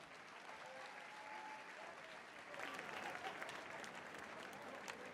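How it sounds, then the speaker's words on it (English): Crowd applause and cheering at a Muay Thai fight night, a steady wash of clapping from a large audience that swells louder midway and holds, heard from within the arena. "Round of applause, come on."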